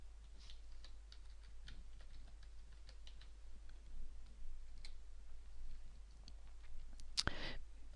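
Fingers typing a company name into a search box on a computer keyboard, a quiet run of light, irregular key clicks over a low hum, ending in a sharper click.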